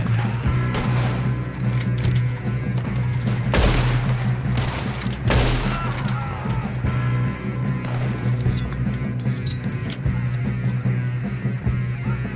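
Loud, close bursts of gunfire crack repeatedly through a Red Dead Redemption 2 shootout, several sharp volleys standing out against a steady low hum of background game sound.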